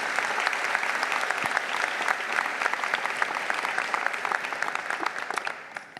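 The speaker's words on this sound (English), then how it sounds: "So please give a round of applause to Dr. Brown for me." An audience at a medical school white coat ceremony claps at length, a dense and even wash of applause from many hands in a large hall, which holds steady and then thins out at the end.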